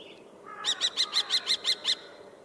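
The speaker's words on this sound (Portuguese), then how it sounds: "é este ki que é o som mais característico do peneireiro" A common kestrel gives a rapid series of about eight sharp, evenly spaced 'ki' calls, loud and clear against quiet background noise with no other sounds.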